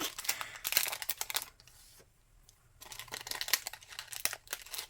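A plastic bag being handled during a crafting session, with close crinkling in bursts, a brief quiet pause, then more crinkling.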